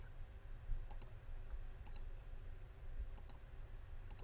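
Computer mouse clicks made while holding the Control key, arriving as four quick paired clicks spaced about a second apart, crisp and close against a quiet low hum.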